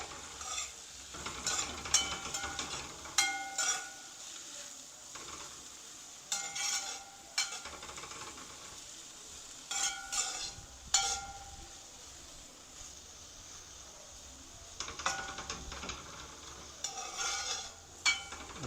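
Lobster sautéing with spices in a pan, soft sizzling under repeated scraping and stirring strokes that come in short bursts with quieter gaps between them.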